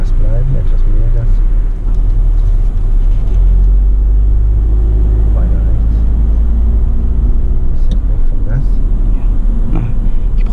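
A VW Passat accelerates through a roundabout, its engine a steady, close low rumble that holds throughout while voices talk over it inside the car.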